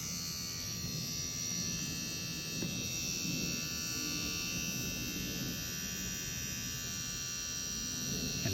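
A rotary tattoo machine pen runs continuously with a faint, even electric buzz and hum, steady throughout with no talking.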